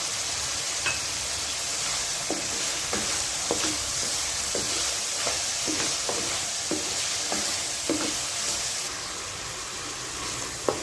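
Tomatoes and bell peppers with chilli and turmeric fry in a pan, giving a steady close sizzle. Scattered light clicks and taps from stirring run through it, and the sizzle drops slightly near the end.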